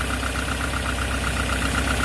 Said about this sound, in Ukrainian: як працює мотор.